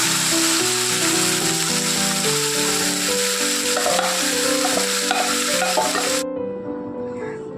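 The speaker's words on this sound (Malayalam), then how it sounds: "നമുക്ക് മാരിനേറ്റ് ചെയ്ത് ചിക്കൻ ഇട്ട് കൊടുക്കാം." Marinated chicken hits a hot pan and sizzles steadily while being stirred, a loud continuous frying hiss with scraping stir strokes throughout, dropping off sharply near the end.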